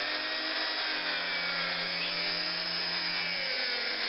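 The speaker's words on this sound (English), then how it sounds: "here I'm polishing one of the pipes to go through into the boiler" A power tool polishes a metal pipe meant for the boiler of a Wilesco D40 model steam tractor, giving a steady, close, high whine that holds unbroken and carries no talk.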